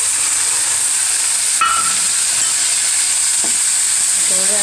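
Tomato gravy with ginger-chilli paste fries loudly in a pan, a dense constant sizzle and hiss, with a couple of brief scraping stirs of a spoon partway through.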